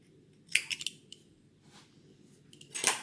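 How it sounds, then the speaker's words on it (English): Scissors snip a crochet yarn tail with a couple of crisp close metallic cuts, separated by quiet pauses and faint handling. "I'm going to cut that tail down so it's out of my way completely."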